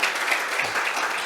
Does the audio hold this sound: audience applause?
yes